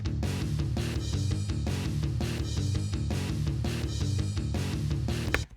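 Progressive metal guitar riff in drop D with drums, played back in Guitar Pro: loud, continuous heavy guitar chugs locked to driving kick and cymbal hits, with no voices.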